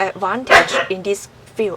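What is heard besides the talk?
dog barking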